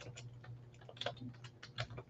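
Rapid, uneven keystrokes on a computer keyboard, fairly quiet and close, clicking in short bursts over a low steady background hum with no talking.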